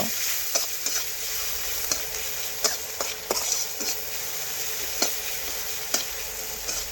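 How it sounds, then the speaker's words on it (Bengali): Chopped onion frying in hot oil with whole dry chilli and cumin, a steady close sizzle broken by regular stirring scrapes and small crackles, with no voices. "এখন পেঁয়াজ একটু আমি নাড়াচাড়া করে একটু ভেজে নেব"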